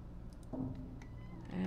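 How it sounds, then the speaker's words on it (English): A house cat makes soft meowing sounds close by under a low hum and a few scattered keyboard taps, with a louder meow at the very end. "We have cute kitty noises in the background again."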